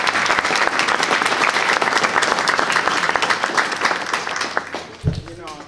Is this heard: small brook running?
no